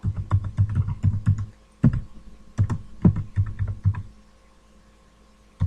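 Computer keyboard typing in quick clustered bursts of keystrokes, close and distinct, with short pauses between runs and a quiet stretch near the end before one last click.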